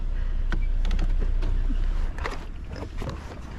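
A 2024 Jeep Wrangler Rubicon's 2.0 engine works under throttle off-road, a loud, steady low rumble held for a few seconds with a slight drop in level near the end, plus a little wind noise.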